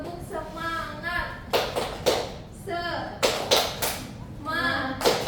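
A class doing rhythmic 'tepuk semangat' clapping in a microteaching lesson, with bursts of clapping in short patterned groups alternating with children chanting and a teacher's voice.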